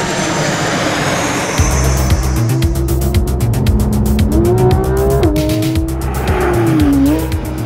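A Porsche 991 GT3 RS engine revs hard and climbs through gears, loud and close, with rising and falling pitch sweeps, shift breaks and rough rumble throughout.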